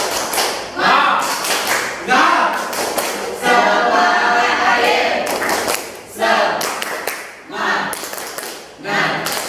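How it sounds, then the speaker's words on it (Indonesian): A classroom group does a spirit clap together in quick rhythmic bursts, pausing briefly between patterns, with some voices mixed in, loud and close. "Tepuk semangat."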